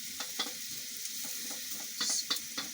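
Onions fry over high heat for spicy chapati rolls, sizzling steadily with a loud hiss and crackle while a utensil scrapes and stirs them at irregular intervals, and no one is talking.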